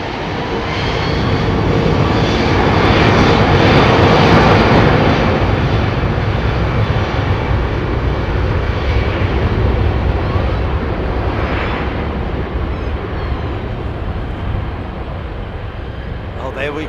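A deep, steady engine hum from an Airbus Beluga XL at Heathrow Airport drones continuously at fairly close range, with a broad rumbling roar that swells slightly and then holds.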